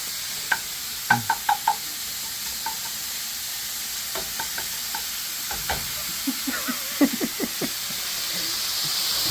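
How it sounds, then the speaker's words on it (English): Food sizzles loudly in a pan, a constant hissing wash dotted with sharp pops and clicks of stirring and spattering, close up. "Got the sizzle, buddy."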